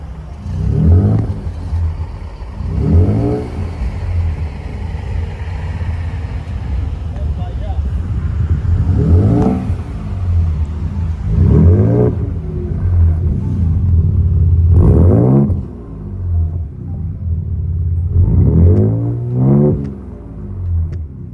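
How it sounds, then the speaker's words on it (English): A Ford Ranger Raptor's engine revs in a series of deep, rumbling bursts, roughly six swells rising and falling over a steady low idle, heard close and loud with no talking. "let's listen to the exhaust note of the Ford Ranger Raptor"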